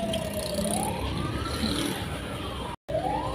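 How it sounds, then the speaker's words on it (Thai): An ambulance siren wails along a street in Pakistan, its pitch sweeping up and down as it passes, loud and fairly close over traffic rumble, with a brief dropout near the end. "แอมบูเลนเสียงดังมาก"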